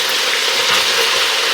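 Onion fries in a mix of bacon and hog jowl fat. The sizzle is close, loud and steady, with a continuous crackling hiss.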